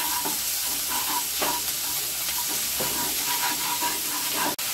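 Chana masala spices fry in a pan with oil, salt and ginger, giving a dense, steady sizzle and crackle with intermittent stirring scrapes, heard up close and without any voices.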